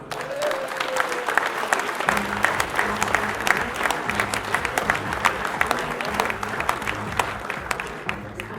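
Sustained applause from an audience at a rugby club's season team presentation evening for ROC La Voulte Valence, dense and steady throughout, with a low rhythmic music bed entering partway.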